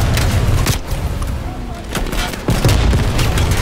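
Gunfire in Call of Duty: Cold War, loud bursts of shots in quick clusters with sharp cracks near the start, middle and end, and a voice briefly heard under the shooting.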